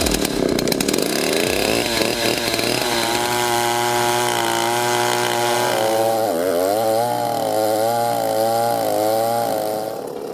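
A heavy rebuilt Stihl 090 AV chainsaw with a 4-foot bar roars loudly and steadily, its pitch bogging and wavering at low RPM as the chain bites through a dense oak root ball, close and unbroken.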